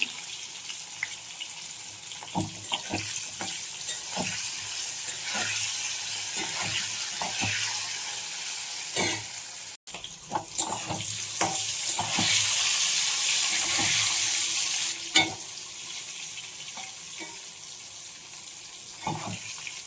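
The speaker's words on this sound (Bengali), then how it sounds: "তো কপিটা আমার ভাজা হয়ে এসছে।" Cauliflower fries in a pan for vegetable khichuri, with a steady sizzling hiss punctuated by repeated scraping and stirring knocks and a brief surge of louder crackle midway.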